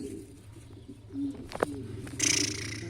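An Adana pigeon coos in a few short low notes against a quiet room hum, followed by a brief hissy rustle.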